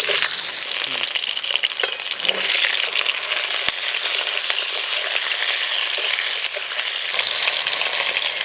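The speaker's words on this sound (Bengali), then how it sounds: "কড়াইতে যেটুকু তেল আছে দিয়ে দেবো ঝিঙে।" Ridge gourd frying in a little leftover oil in a wok, a loud constant hiss and crackle with occasional metallic clinks of stirring.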